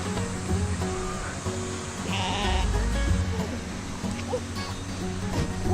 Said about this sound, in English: I'm surrounded by sheep.